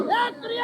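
A crowd chants political slogans in unison at a Pakistani political rally, loud, close voices rising and falling in a short burst.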